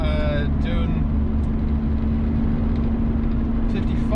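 Steady engine drone and road rumble from a 1992 Daihatsu Charade with a 1 litre turbo diesel cruising in fifth gear, a constant low hum with a faint steady whine, continuous and close throughout.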